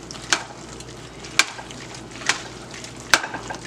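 Parsley and Parmesan being stirred into an Alfredo sauce in a pan for shrimp fettuccine, with four sharp scrapes of the utensil against the pan at a steady pace over a soft, constant simmer.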